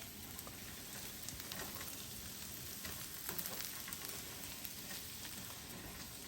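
Breakfast potatoes brown in a skillet with a soft, even sizzle and fine crackling that holds steady throughout, fairly quiet and heard alone without talk.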